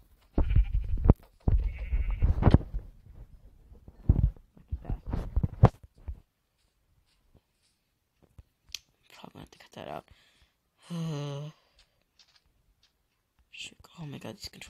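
Sheep bleating in a crafting and building video game, a single short wavering bleat standing out after a stretch of soft whispered talk and clicking, with quiet gaps around it.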